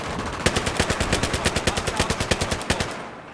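A PP-2000 submachine gun fires in Battlefield 3 as rapid, evenly spaced automatic shots, about twenty cracks in steady bursts. The shots are close and loud, with no voices, and end abruptly.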